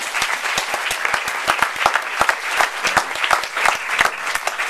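An audience at an evening Q&A event gives a full, sustained round of applause, a thick crowd roar with many distinct nearby claps standing out, loud and steady throughout with no voices.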